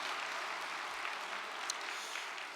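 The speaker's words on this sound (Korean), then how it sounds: "우리 박수 한번 해드리겠습니다" An audience at a Middle East peace lecture claps together in a brief, even patter that stays fairly quiet and steady for a couple of seconds.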